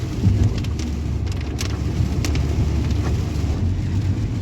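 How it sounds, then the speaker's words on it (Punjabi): Heavy rain pours down in a dense, steady roar, loud and continuous, with occasional louder splashes and a low rumble underneath. "ਬਾਰಿਸ਼ ਫੇਰ ਤੇਜ਼ ਹੋ ਗਈ ਹੈ ਨਾ ਅੱਗੇ"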